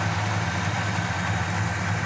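A 1967 Oldsmobile Cutlass Supreme V8 with CDI multi-spark ignition idles smoothly and steadily, a close, even low rumble with no talk over it.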